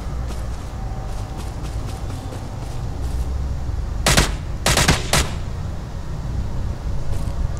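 Gunfire rings out in the online shooter STALCRAFT, with several loud, sharp shots in a quick cluster around the middle over a low rumbling ambience, and no talk.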